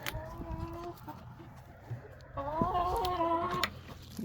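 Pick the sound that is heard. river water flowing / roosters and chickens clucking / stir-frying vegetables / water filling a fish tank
roosters and chickens clucking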